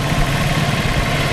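A Motoposh Typhoon 150 pushrod motorcycle engine with a worn head idles close by, a steady low, even chugging rumble with no voices.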